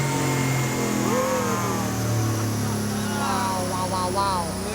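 A twin-turbo 2015 Mustang GT on a hard pull, a loud sustained engine drone with rising whine over a rumbling base, heard close alongside overlapping voices.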